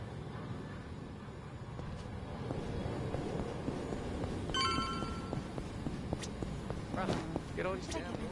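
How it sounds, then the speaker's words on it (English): A phone ringing with notifications in the game Yakuza Infinite Wealth, several short bright electronic rings and chirps cutting in over a low busy background, clustered toward the middle and end. "Get all these damn notifications."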